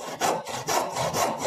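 A back saw cuts wood down to marked lines in quick, even strokes, about three rasping push-pull passes in a second and a half, close and alone.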